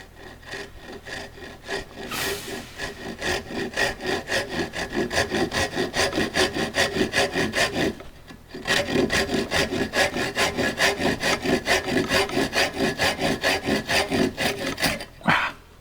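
A crosscut hand saw works through wood for a drawer front repair in steady, rhythmic back-and-forth rasping strokes. It is loud and close, with a brief pause near the middle.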